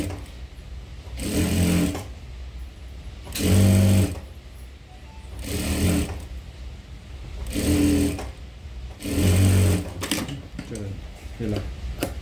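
A sewing machine attaches a neck strip to a blouse in five short, loud bursts of fast stitching separated by pauses, with a voice talking between runs.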